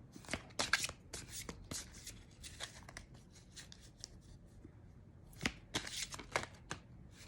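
Oracle cards are shuffled in quick riffling bursts, crisp and close, with short pauses between rounds of shuffling.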